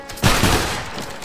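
A single loud ragged musket volley erupts from a line of soldiers in Battle Grounds III, a sharp crackling burst that rolls off into a short echoing tail.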